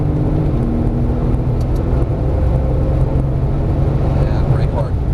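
A Porsche Turbo S engine under full throttle on a track, a loud continuous drone and road roar from inside the car that holds steady throughout.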